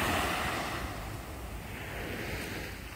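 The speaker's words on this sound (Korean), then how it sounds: "이 파도는 끝없이 밀려오는 것 같아요, 그죠?" Ocean waves surge at night on Haeundae beach in Busan, a broad continuous wash of surf mixed with wind rumble on the microphone, swelling slightly at the start and then rolling on steadily with no voices.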